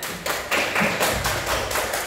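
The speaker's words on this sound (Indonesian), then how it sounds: "Oke, tepuk tangan." A classroom of students claps together in a rhythmic pattern, several sharp synchronized bursts of hand claps following one another at a quick, steady pace, close and loud.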